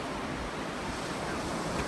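Ocean surf washing steadily onto a beach, a continuous broadband rush with wind noise across the microphone, no talking.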